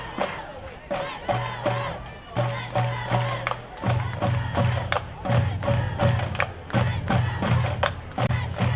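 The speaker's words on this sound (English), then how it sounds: "Crowd starting to come alive some here on the Oak Hill side." A crowd comes alive on the Oak Hill side at a Wellston vs. Oak Hill high school football game, a rowdy mass of shouts and chants with rhythmic thumps and stomps, loud and sustained throughout.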